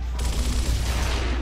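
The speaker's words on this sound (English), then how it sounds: "You can't keep running into my gunfire like this, Cole." Rapid bursts of gunfire from the video game Gears of War crackle in a dense, continuous fusillade, loud and close, with no one speaking.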